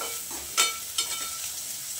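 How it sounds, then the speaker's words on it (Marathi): Chopped onion sautés in a pan, a soft, continuous sizzle broken by two quick stirring scrapes close by. "एक साधारणतः 2 मिनिटं आपण कांदा परतून घेतलाय"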